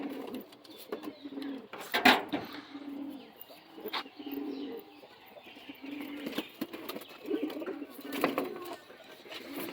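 Madras pigeons coo in low, repeated murmurs at moderate distance, with occasional sharper bird calls and brief rustling bursts cutting through a steady background.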